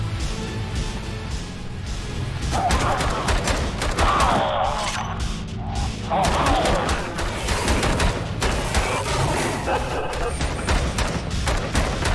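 Gunfire in the video game Bunker Punks: bursts of shots crackle almost continuously over a dense, loud backdrop of game noise and music for the whole stretch.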